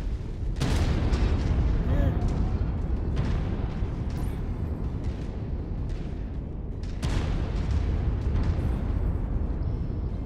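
Artillery shells booming in MechWarrior 5: Mercenaries, a string of heavy explosions landing one after another amid a steady rumble of mech combat.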